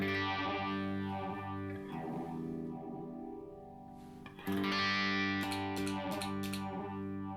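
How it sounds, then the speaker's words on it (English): An electric guitar plays through a NUX phaser effect pedal, sustained distorted chords with a sweeping, whooshing phase movement rising and falling, then a fresh strum restarts the swirling sweep; no talk. "Same with on like a phaser sound as well."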